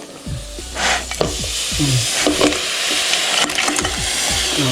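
Crab frying and being stirred in a hot pan: a steady sizzle with repeated scraping strokes of a spoon against the pan, close and continuous, with no voices.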